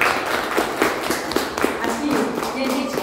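An audience at a gathering claps for a child, brisk scattered applause with distinct taps, close and fairly loud, with voices mixed in.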